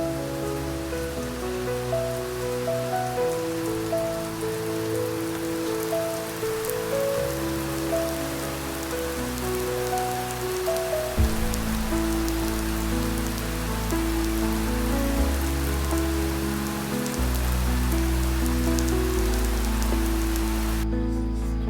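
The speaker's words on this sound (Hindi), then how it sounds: "और फिर जैसे प्रेडिक्टेड था, आ गया वो तूफ़ान" Heavy storm rain pours down on a backyard garden, a dense steady hiss of drops under sustained tonal background music, unbroken to the end.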